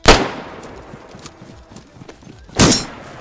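Gunfire in the survival game DayZ comes as two loud, sharp shots, one at the start and one near the end. Fainter scattered pops and clatter fill the gap between them.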